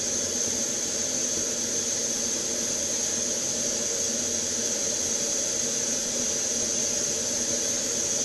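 Steady roaring hiss of a gas flame heating a powder-coated lead fishing lure to melt and smooth its coating, constant and unbroken throughout with no voices.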